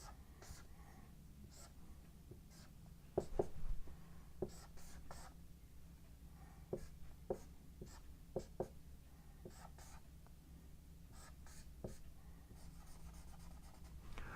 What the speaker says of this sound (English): So let's draw all 3 of those.